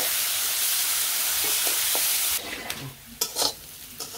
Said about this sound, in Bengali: অন্য সময় করলার আলু আলাদা আলাদা ভাজি করা হয়, আজকে আমি আবার একসাথে দিয়ে দিচ্ছি